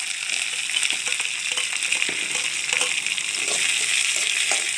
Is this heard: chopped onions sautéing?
yes